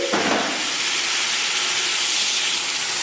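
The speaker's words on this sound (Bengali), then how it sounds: "আলু আর শুটকি দুটোকে একটু ভাজা করে নিচ্ছি" Cubed potatoes and dried fish frying in hot oil give a steady, loud sizzling hiss that fills the whole clip without pause and without talk.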